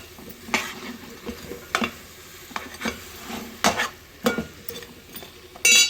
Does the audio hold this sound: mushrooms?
yes